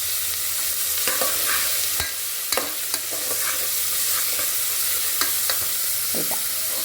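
Onions with a pinch of salt fry in oil after mustard seeds, giving a continuous sizzle broken by a few sharp clicks and scrapes of a stirring spoon against the pan.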